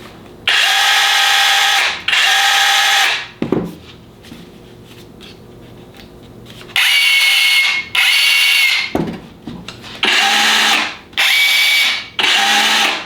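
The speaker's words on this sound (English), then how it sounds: "And then finally we have the simple drill mode." A cordless hammer drill in drill mode whirs in several short bursts, loud and close, with a high whine and brief pauses between runs.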